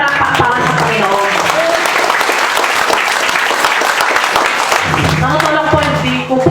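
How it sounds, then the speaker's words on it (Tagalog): Congregation clapping loudly at a church anniversary service, a full, continuous roar of hands with voices and tonal sounds mixed in underneath. "Ibigay po natin the best na palakpak para sa Panginoon"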